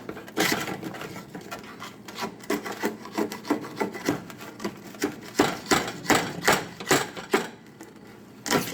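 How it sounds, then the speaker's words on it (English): A cooking tray is scraped in a series of short, rasping strokes that come in an irregular rhythm, close by and moderately loud, with no talk over them. "Now we scrape the tray."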